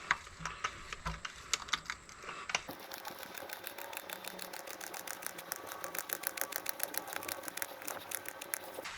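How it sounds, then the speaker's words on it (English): Gear oil is hand-pumped from a quart bottle into a gearbox in a home garage, giving a steady run of quick, close mechanical clicks and squelches that thicken after a brief pause. "Let's pump this until it runs out."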